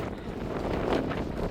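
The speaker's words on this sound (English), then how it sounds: "it's very blustery around here" Gusty wind on a blustery autumn waterfront in Norfolk buffets the microphone with a loud, continuous low rumble and roar, with a voice faintly mixed in.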